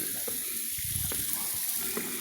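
Water runs steadily from a tap, a continuous hissing splash with occasional clinks, close and constant throughout.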